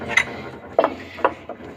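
A part is loosened on a CharlyRobot 2U CNC machining center, giving four sharp metallic clicks and clacks spaced irregularly over a faint background, close by, with no talking.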